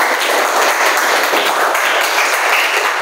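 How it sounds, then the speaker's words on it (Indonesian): A classroom of high school students applauds after group presentations in a Pancasila civics lesson, dense loud continuous clapping from many hands filling the room for three seconds without speech. "Anak-anak berikan tepuk tangan untuk kalian semua."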